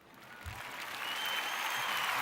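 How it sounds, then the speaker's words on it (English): A studio crowd applauding and cheering to welcome a guest on a live political talk show, clapping swelling from a soft start into a steady, dense roar. "I appreciate that to a roaring crowd"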